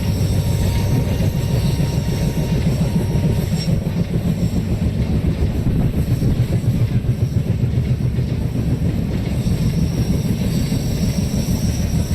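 A simulated express train rumbles steadily through a station in a train driving game, with a continuous loud roll of wheels and rail noise and no talking.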